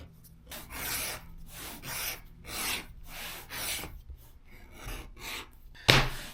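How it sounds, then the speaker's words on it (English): A hand tool scrapes along the edges of a leather belt as it is beveled, giving a series of about eight rhythmic rasping strokes, close and fairly quiet, ending with a sharp knock. "I'm going to bevel all of these edges"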